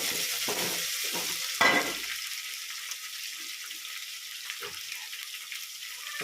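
Crushed ginger and garlic drop into hot oil and get stirred, a burst of sizzle and scraping clatter at first that quickly settles into a quieter, steady frying hiss with occasional faint stirring taps.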